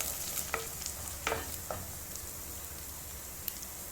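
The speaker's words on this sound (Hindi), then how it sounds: "अब इसमें हम आलू डालेंगे और आलू डालने के बाद हमने इसको 4 मिनट तक फ्राई करा है।" Cubed potatoes fry in a pan, giving a steady, fine sizzle throughout with a few soft clinks and scrapes of stirring, and no talking.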